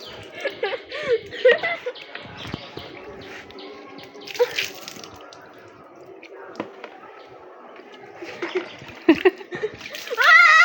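Water splashes in uneven bursts as a young child is bathed outdoors, with a voice, other talk and some laughter mixed in close up.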